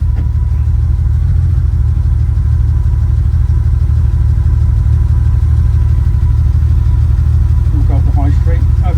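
A road-legal Porsche 917 Le Mans race car idles at traffic lights, its engine a loud, close, deep steady rumble with a slight lift in revs near the end.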